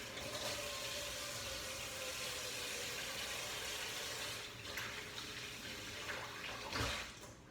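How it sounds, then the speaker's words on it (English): Tap water running steadily into a sink during handwashing, a continuous close splashing hiss that eases slightly near the end, with no talking. "Let me go wash my hands."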